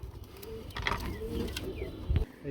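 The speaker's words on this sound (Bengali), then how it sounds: "এক জোড়া কবুতর দেখাবো বন্ধুরা এই যে দেখেন" Pigeons kept in pairs for sale, cooing faintly among light mechanical clicks and rustling, with a deeper, louder coo near the end.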